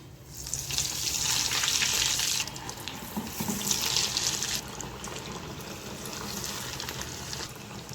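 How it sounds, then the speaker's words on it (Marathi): Vegetable cutlets frying in hot oil in a small kadhai, making a steady, loud, broad hiss that eases to a lower, even sizzle partway through, close up with no talking. "आता ह्याच्यात आपण एक एक कटलेट सोडूया"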